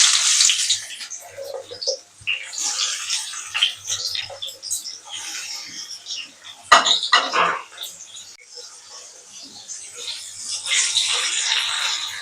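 Bitter gourd pieces dropped into hot oil in a pan, a crackling, bubbling sizzle with clinks and scrapes of stirring, swelling and fading over time.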